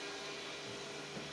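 A vacuum cleaner runs nearby with a steady, even broadband roar that holds throughout without pause or voices.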